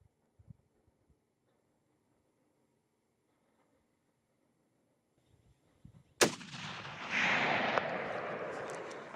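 A single sharp rifle gunshot cracks loudly at close range on a Coues deer hunt, followed by a long, rumbling echo that rolls out across open country after several seconds of near silence.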